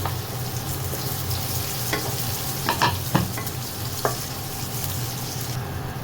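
Garlic sautéing in oil for Filipino humba, cooked Visayan style, sizzles steadily up close while a utensil stirs and scrapes the pan in a few distinct clinks and scrapes, with no talking.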